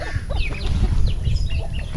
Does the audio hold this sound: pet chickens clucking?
yes